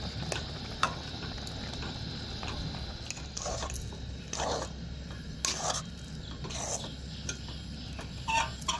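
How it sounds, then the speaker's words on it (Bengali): Semolina and potato being stirred in a pan into a thick dough for crispy medu vada, a steady run of soft scraping, squishing strokes, fairly close and moderately loud, with no talking. "এবার আমি এই সুজিটাকে ভালো করে রান্না করে একটা ডো তৈরি করে নেব।"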